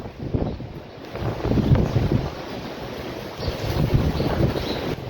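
Strong storm wind in Cape Town buffets the microphone with a continuous, gusting rumble that swells and eases, loud and close, with no voices.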